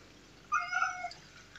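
Indoor house cat meowing in a kitchen, a single drawn-out meow, close and clear against quiet room tone.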